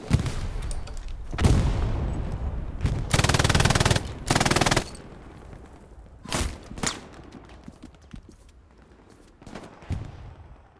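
An MG42 machine gun fires on the Omaha beach map of a World War II shooter, with loud, close, rattling bursts: a short volley, a long sustained stream, then several brief bursts separated by pauses.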